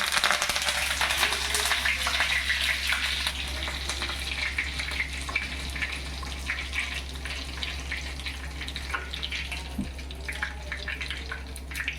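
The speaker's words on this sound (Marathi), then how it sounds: "ये थोड़ा सा जीरा एक कड़ी पत्ता" Cumin seeds and curry leaves fry in hot tempering oil on a gas stove, giving a steady bright sizzle with crackles, close and loud over a low hum throughout.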